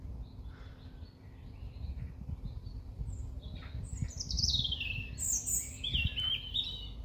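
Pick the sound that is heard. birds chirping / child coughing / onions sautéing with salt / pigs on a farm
birds chirping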